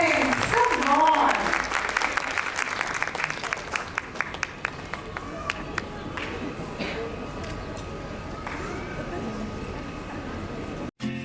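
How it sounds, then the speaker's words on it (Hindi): A school audience applauds to welcome children and their parents, starting loud and dense and easing into steadier, sparser clapping with scattered sharp claps, while a voice talks faintly underneath. "स्वागत में शोर होना चाहिए, आपकी तालियों में जोर होना चाहिए।"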